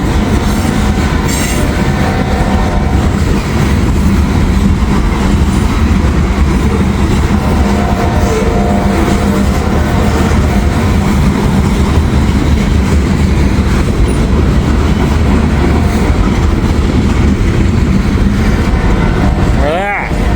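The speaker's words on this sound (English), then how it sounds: "once this Norfolk Southern train passes" A Norfolk Southern freight train of boxcars and coke loads rumbles by loud and close for the whole stretch, wheels clattering and squealing on the rails, with a voice talking over it.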